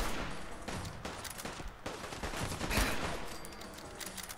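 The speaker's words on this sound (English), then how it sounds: "Oh, he's shooting at me." Enemy gunfire in the game Fallout 4, a rapid run of sharp shots and bursts at mid distance over steady background noise.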